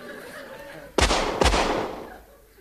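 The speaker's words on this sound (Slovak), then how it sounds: "Asi nepočul, že to strieľate do neho" Two sharp gunshots ring out about half a second apart, loud and close, each followed by a short decaying echo over a faint background.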